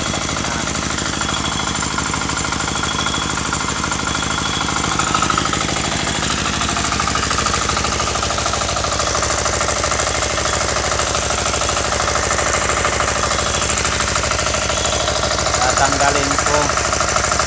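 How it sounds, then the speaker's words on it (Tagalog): An engine runs near a creek, a loud continuous rapid mechanical chugging that holds steady throughout at close range, with no talk over it. "Pupunta ako ngayon sa makina. Ayan ang umaandar."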